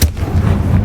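A Confringo explosion spell in Hogwarts Legacy, a loud booming blast that opens sharply and rolls into a dense low rumble lasting under a second.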